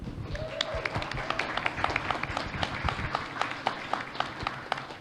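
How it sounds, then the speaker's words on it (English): Audience applause for the JumpStart team at the Cleveland Small Business Impact Program showcase, a moderate burst of scattered clapping that carries on steadily through the whole stretch. "I want to give a round of applause to the JumpStarters."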